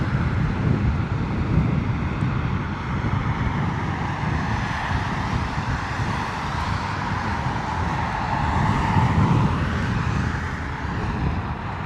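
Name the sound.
British Airways A320 Neo landing at Heathrow in wet, windy weather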